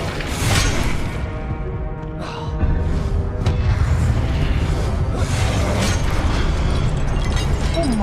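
Spell blasts from Confringo and Incendio in Hogwarts Legacy burst out as loud booming explosions with crackling, shattering debris, several hits in quick succession over a busy game soundtrack.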